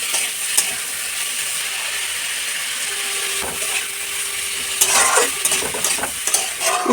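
Bitter gourd and potato pieces fry for a Bengali chorchori, with a steady loud sizzle throughout and a spatula scraping and clattering in the pan now and then, close by and without talking.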